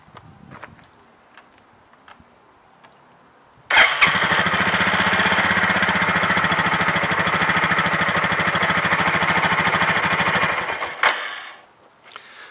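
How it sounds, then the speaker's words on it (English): A motorcycle engine cranks over with a steady rapid chugging for about seven seconds, loud and close, then cuts off into faint clicks. "we're just going to crank the engine to get the fluid to run throughout the crankcase"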